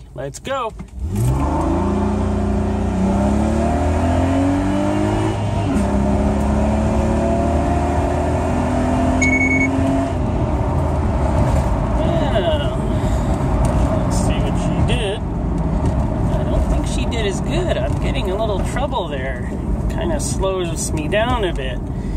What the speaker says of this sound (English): I'm ready to pull out again and see what this thing will do yeah, with traction control off.